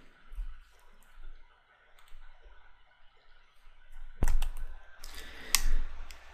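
A few sharp computer mouse clicks on an Ubuntu 12.10 desktop, close and crisp, with a louder pair of clicks near the end over a faint room hum.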